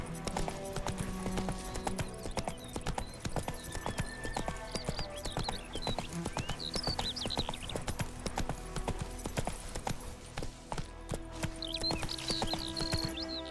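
Horse hooves clip-clop at a fast gallop in a video game, a loud, steady drumming rhythm with a brief whinny and game music underneath, and no talking.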